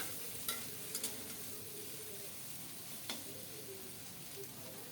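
Small mixed fish fry in a pan with a soft, faint sizzle, broken by a few light clicks as they are flipped over.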